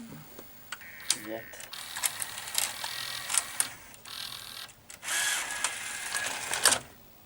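A Sony EV-C200 Hi8 VCR ejecting a cassette, giving a busy run of small mechanical whirs, clicks and clunks over several seconds, close and fairly quiet.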